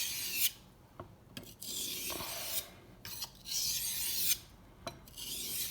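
A knife blade scraped back and forth across a water stone in long rasping strokes, each run of grinding broken by short pauses as the blade is lifted and reset, close and fairly loud with no talking.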